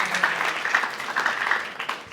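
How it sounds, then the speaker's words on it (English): An audience at an indoor talk session at American Corner Pontianak claps in a short burst of applause, moderately loud and steady with a few brighter peaks, then starts to fade. "give a round of applause for Fhoenna."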